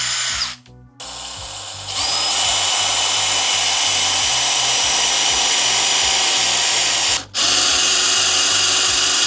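A power drill grinds continuously while cutting out spot welds on a BMW M3 body panel, loud and close, with two brief pauses where the bit stops before resuming.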